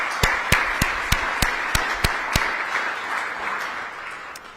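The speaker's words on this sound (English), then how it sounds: "let's give them a round of applause" Audience applause at the Aspen Security Forum, steady, with a few sharp, rhythmic claps standing out at first before the clapping gradually fades.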